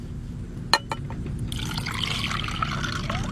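A sugared drink being poured into a glass: a sharp clink, then a steady trickling fill of liquid running close and clear for a few seconds.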